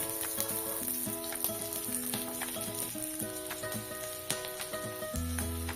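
Mango pulissery tempering in a pan, a continuous bright sizzle with crackles and pops throughout, joined by a low steady tone near the end, close and without voices.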